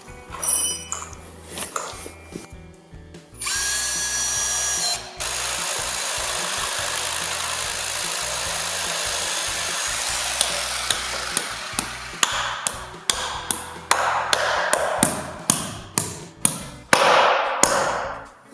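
Metal brackets being fixed to a wooden garden shed with a power drill, heard as long whirring bursts and sharp repeated knocks and clatter, loud and close, with no speech.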